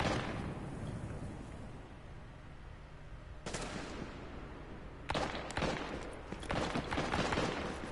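Bursts of rapid gunfire in a Division firefight, shooting at a grenade held by an enemy, with dense overlapping shots that intensify in the final seconds amid continuous battle noise.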